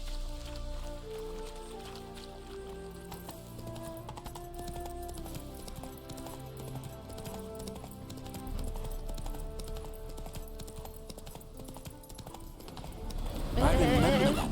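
A horse in The Witcher 3 video game clops along at a steady rhythmic pace under background music, then gives a loud, close whinny near the end.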